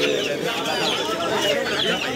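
Chickens cluck amid a busy animal and bird market, a dense continuous chatter of fowl close by with crowd noise and voices mixed throughout.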